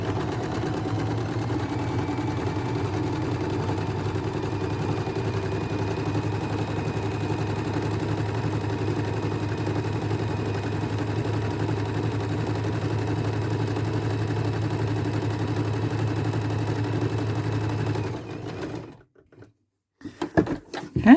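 Sewing machine with a fringe foot stitching rows at its widest zigzag width, a steady close mechanical hum and rapid needle chatter running continuously, stopping abruptly near the end, no talking.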